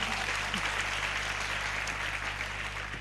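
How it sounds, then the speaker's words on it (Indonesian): A church congregation applauds during a sermon, steady, moderately loud clapping that fills the room and holds evenly throughout, with a low constant hum beneath it. "Kalau mau tepuk tangan lah."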